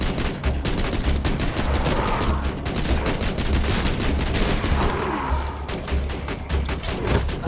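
In Borderlands 2, a rapid-fire gun blasts continuously in a dense, driving stream of sharp shots, loud and close, with heavy thumps underneath.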